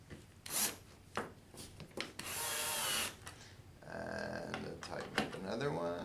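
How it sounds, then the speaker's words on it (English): A small electric motor screwdriver sets screws in a male pin connector on SJO cable, with short whirring bursts and a longer spin near the end mixed with handling clicks and rubbing; a person talks intermittently. "I'm going to cheat and use my little motor screwdriver"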